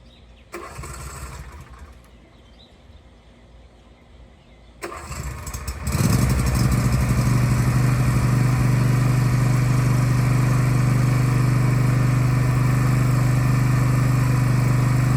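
A riding lawn mower engine cranks and catches, then settles into a loud, steady close-up running drone, preceded by some quieter rustling and handling.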